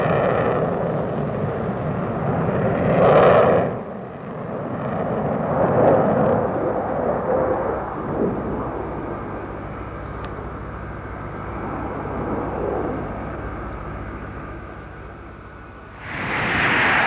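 A Falcon jet bomber flies past at the 1993 International Air Tattoo at RAF Fairford, its broad roar swelling near the start, fading, then building again near the end as a steady loud airshow rumble with no talk.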